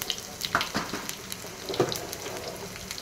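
Mustard seeds, cumin and crushed garlic tempering in hot oil in a small pan, a soft crackling sizzle with a few sharp pops, fairly close and steady, no voices.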